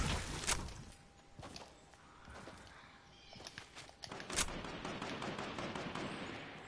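Scattered video-game gunshots crack at irregular intervals, some sharp and near, others softer, with faint shuffling and footsteps between them.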